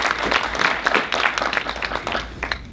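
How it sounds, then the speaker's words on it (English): Applause from the audience at a college diversity summit keynote speech, uneven bursts of clapping over a short stretch at moderate volume. "Give yourself a round of applause."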